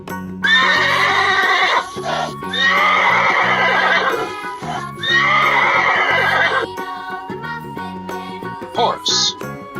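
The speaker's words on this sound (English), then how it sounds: "Horse." Three loud, close horse neighs, each a shrill whinny lasting about one and a half seconds, separated by short gaps and followed by quieter snorting sounds.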